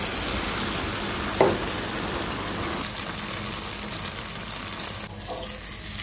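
Egg fries in a pan with a steady, close sizzle and crackle throughout, plus a couple of brief clinks, and no talk over it.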